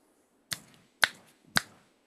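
Three sharp finger snaps, spaced about half a second apart, close and clear with silence between them.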